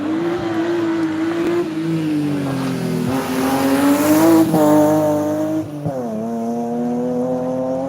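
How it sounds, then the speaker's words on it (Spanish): A rally car races past at a rallysprint, loud and close, its engine revving and shifting with rising and falling pitch, a brief drop near the end, then accelerating again. "¡Ahí va solo un coche!"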